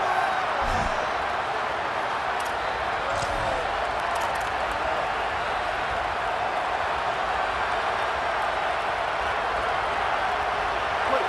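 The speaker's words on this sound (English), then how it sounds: "The Tide crowd rolling noise down onto Saban Field on 3rd down" A steady stadium roar from a Tide crowd at Saban Field during a 3rd down in a college football video game fills the space, with a commentator talking over it throughout.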